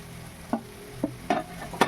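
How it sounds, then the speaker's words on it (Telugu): Chopped tomato pieces are added to a pan of dried prawn village curry and stirred, giving four distinct spoon scrapes and clatters over a faint sizzle, with no one speaking. "తర్వాత టమాటా పీసులు వేసుకోవాలి"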